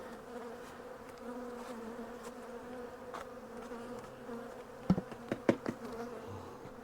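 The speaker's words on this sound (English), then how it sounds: "So these bees we want to knock down so that they're close to their hive." Honey bees buzz around their hive during a mild winter hive check, a soft, steady drone near the listener with a few sharp knocks and taps toward the end.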